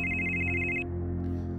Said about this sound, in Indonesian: Kemudian ponsel ibu berdering lagi